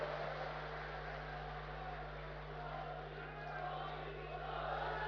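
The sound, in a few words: crowd applauding and cheering at a political rally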